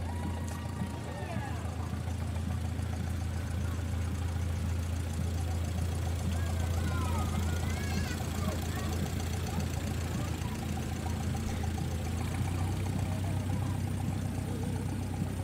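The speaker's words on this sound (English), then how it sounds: "This is the Edward T. Red Horan celebratory wagon and tractor." A parade tractor pulling a celebratory wagon, its engine running steadily at a low idle-like rumble throughout, with crowd noise and talk over it.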